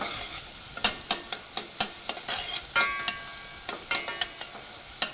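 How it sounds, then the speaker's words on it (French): Onions fry gently in a pan, a soft steady sizzle broken by regular sharp stirring scrapes of a utensil, close and fairly quiet with no talk. "Donc là on va y mettre les oignons. Voilà. On va faire revenir tout doucement."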